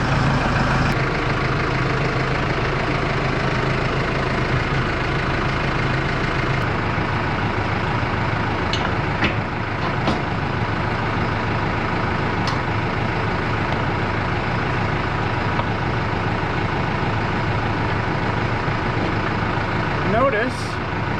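A tractor engine idles steadily in a continuous, loud, low rumble that barely changes from start to finish.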